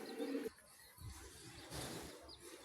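A pet pigeon cooing, a soft low coo close by at the start, then faint rustling and scattered chirps from other birds around it.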